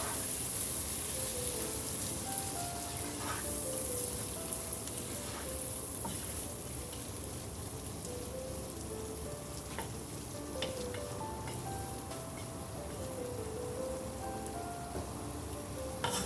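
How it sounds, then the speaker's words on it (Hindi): Chana dal sizzling in hot oil in a pan, a steady soft crackle and hiss continuing throughout with faint occasional clinks, no talking. "ये इसमें डाल देंगे और इसको अच्छे तरीके से फ्राई करते हैं दाल को थोड़ा"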